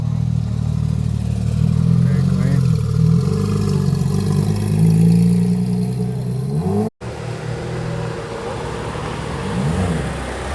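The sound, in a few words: Porsche 911 ST pulling up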